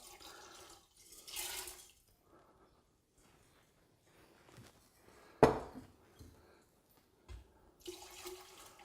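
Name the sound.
pouring cannabis solution into a still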